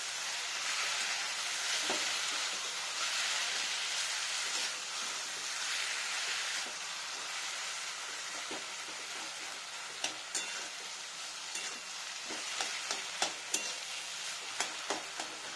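Grated pointed gourd and green chillies fry in a pan with a steady close sizzle, later joined by scattered clicks and scrapes of stirring.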